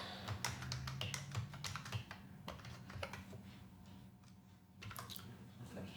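Fairly quiet typing on a computer keyboard, a quick irregular run of key taps with short pauses, close and alone with no talk.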